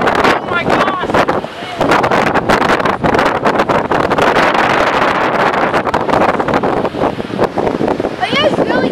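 Strong wind buffets the microphone while kayaking on the Colorado River, a steady roar with gusty crackle that runs through the whole stretch, with water splashing underneath.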